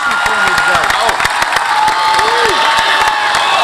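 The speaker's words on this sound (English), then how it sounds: "let's give them one big round of applause, please" At a high school graduation ceremony, a large crowd outdoors gives loud applause mixed with cheering, whoops and shouts. The noise is dense and sustained from start to finish.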